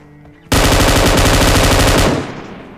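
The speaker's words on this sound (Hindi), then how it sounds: "क्योंकि मेरे हाथ में M249 होती है।" M249 machine gun fire in a video game: one loud sustained burst of rapid automatic shots lasting about a second and a half, then a short fading echo.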